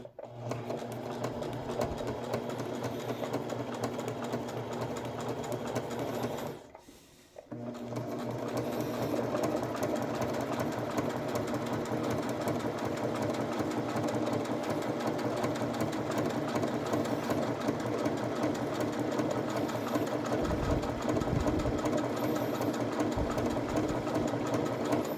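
A sewing machine stitches an appliqué on a shield cover, a steady rapid close whirring hum that stops briefly for a pivot around the seventh second, then resumes and runs on continuously.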